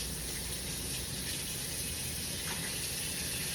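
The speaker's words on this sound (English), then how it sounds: "I am running my dishwater." Tap water runs steadily into a kitchen sink to fill dishwater, a continuous close hiss and gush with no pauses and no talking.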